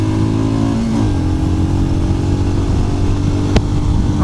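A Royal Enfield Scram 411 motorcycle accelerates at full throttle on a motorway, the engine droning loud and close with rising harmonics through a gear change, heavy wind buffeting mixed in and a brief knock near the end.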